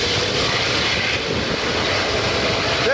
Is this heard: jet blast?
yes